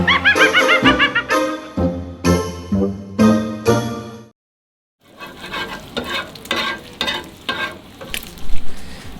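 Bacon frying in a pan gives loud bursts of crackling sizzle and stirring scrapes, broken by a short silent gap midway before a softer, busier sizzle resumes.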